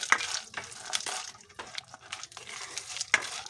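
Edible gum (gond) dropped into hot desi ghee for panjiri, giving a close, steady crackling sizzle with bursts of popping and stirring noises, no talking.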